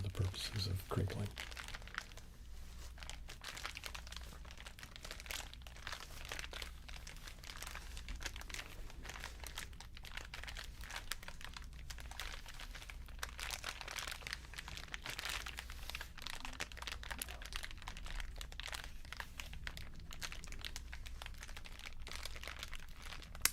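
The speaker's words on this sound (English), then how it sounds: "it was packaging that came to the house, and I absconded with it for the purposes of crinkling." Plastic shipping packaging crinkles and crunches close up in a steady, continuous stream of crackling.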